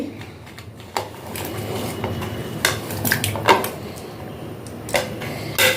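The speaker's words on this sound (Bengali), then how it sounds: "চালটা আমার ধোয়া হয়ে গেছে এর মধ্যে আমি সবজিগুলো দিয়ে দিচ্ছি" Vegetables dropped into a bowl of freshly washed rice in a home kitchen, giving a few soft clattering knocks and light clinks of the bowl over a steady background hum, with no one speaking.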